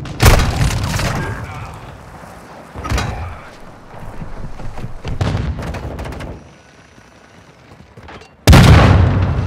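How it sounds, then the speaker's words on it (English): Heavy mortar strike explosions in Call of Duty: Modern Warfare hit in a loud opening blast, with further booms and crackling gunfire and a sudden close impact near the end, all over a steady battlefield din. "Hostile mortar strike near your position."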